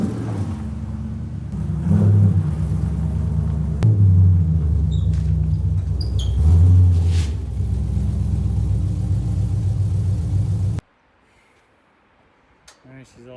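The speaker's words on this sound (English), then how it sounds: "I'm going to back the car up into the garage" A car idles and rumbles close by as it backs into a home garage, its engine swelling with a few gentle revs, before the sound cuts off abruptly to near silence with faint clicks.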